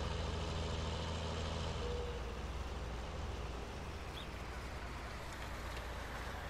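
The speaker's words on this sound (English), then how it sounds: "this tractor's spinning just trying to pull it" A tractor engine strains in Farming Simulator 19 while its wheels spin trying to pull, a steady low rumbling drone that holds constant and moderately loud with no talking.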